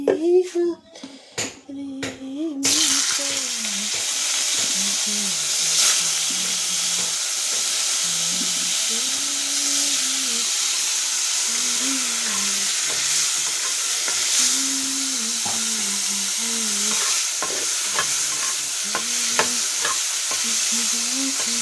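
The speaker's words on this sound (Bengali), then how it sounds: "একটু কালো জিরে দিয়ে ভাজছি, তারপরে জিরে আদা দিয়ে আলুগুলো একটু হালকা ভেজে নিই" Potatoes frying in oil with black cumin, cumin and ginger: after a few seconds of clattering, a loud, steady sizzle and hiss fills the rest, with a voice chattering intermittently over it.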